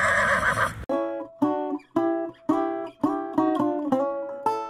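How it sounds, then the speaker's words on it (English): Polo ponies at an outdoor riding clinic near Seattle whinny loudly and close, a burst of noise followed by a long series of repeated, wavering neighs, with no talk. "I'm surrounded by ponies."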